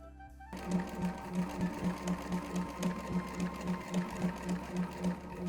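A sewing machine runs a regular stitch along the finished side of a jacket pocket, its needle thumping in an even, rapid rhythm close up after a brief quiet start.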